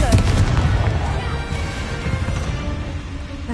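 A Confringo fire spell blast in the Hogwarts Legacy video game, a loud booming burst at the start that rumbles and fades over a few seconds amid game ambience.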